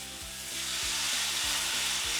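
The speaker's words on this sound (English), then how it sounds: "Listen to that sizzle." Lamb chop strips deep frying in hot oil give off a loud, steady sizzle, a dense close hiss that swells as the pieces go in and holds without talk.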